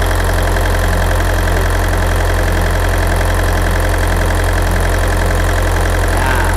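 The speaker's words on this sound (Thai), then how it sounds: "เนี่ยเครื่องหมุนอยู่นะครับ" A Nissan/Hanix compact excavator's diesel engine idles loudly and steadily up close, a constant low rumble with a regular knocking pulse throughout.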